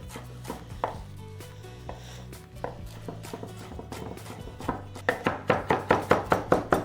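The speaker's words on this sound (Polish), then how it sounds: "Wkroimy zieleninę. Dodam trochę szczypioru. Do tego trochę kopru i natki pietruszki." A knife chops chives, dill and parsley on a cutting board for a quick salad, starting as scattered taps and building into a fast, even run of crisp close chops.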